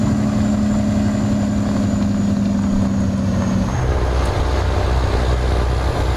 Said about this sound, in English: Engine sounds good though.